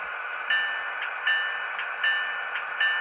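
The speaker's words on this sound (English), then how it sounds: "Here's the bell." A small electronic model train bell dings in a steady repeating rhythm, about four strikes evenly spaced over a faint background hum.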